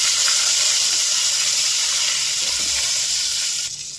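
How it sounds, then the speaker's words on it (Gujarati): Curry leaves dropped into hot oil already holding cumin, mustard seeds, urad dal, cinnamon and asafoetida for a sambar tempering crackle in a loud, steady, close sizzle that eases off near the end. "મીઠા લીમડાના પાન એડ કરીશું।"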